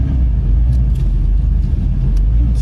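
A 2007 Porsche Cayman fitted with a lightweight flywheel pulls away from a stop, its engine a loud, steady low rumble filling the whole clip with no talk over it.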